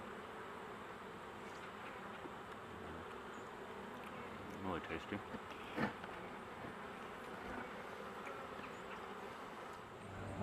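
Bees around a honeycomb hive hum in a steady, faint drone, with a few brief louder bumps, and a voice speaks briefly under it.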